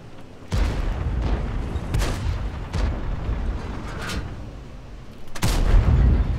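A tank cannon in the game World of Tanks fires a heavy, booming shot, followed by a few more distant thumps and rumbling battle noise, ending with another loud close blast, with no talking.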